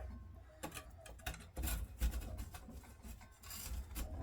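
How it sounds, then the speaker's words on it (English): A root rake scrapes around the inside edge of a pot while a dwarf Hinoki cypress is being repotted, giving soft, close rasping strokes in an uneven rhythm. "I'll run my root rake piece around the edge of it a little bit here."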